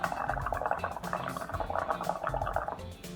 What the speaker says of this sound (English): When you blow it, it makes bubbles.